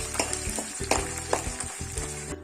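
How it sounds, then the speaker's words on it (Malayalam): Ginger, curry leaves and garlic sauté in hot oil for a carrot pickle, giving a steady close sizzle broken by several sharp scraping stirs of a spoon against the pan. "അതേ എണ്ണയിൽ നമുക്ക് ഇഞ്ചി, കറിവേപ്പില, വെളുത്തുള്ളി എന്നിവ വഴറ്റിയെടുക്കാം"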